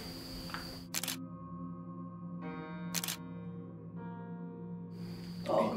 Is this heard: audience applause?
no